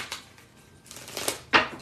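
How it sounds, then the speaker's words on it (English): Tarot cards shuffled by hand in a few quick, close riffling bursts, the last one the loudest. "Let me shuffle y'all."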